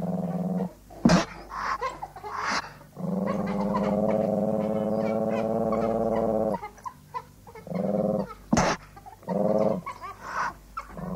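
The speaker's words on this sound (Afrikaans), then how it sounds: "Die musseljaatkat grom en spoeg sy misnoë na die springende bruingeel vorms." A genet growls and spits at African wild dogs, with harsh snarling bursts, a long sustained rasping growl in the middle and sharp spitting hisses, close and loud between pauses.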